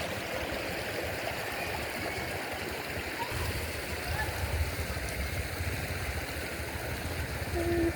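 A flowing stream where villagers bathe, a steady rushing and gurgling of water that fills the whole clip at an even, moderate level.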